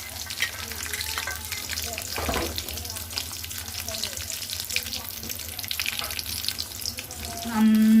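Garlic fries in hot oil for a bilimbi pickle, giving a continuous close sizzle with occasional stirring scrapes and a brief watery rush near the end, with no talk.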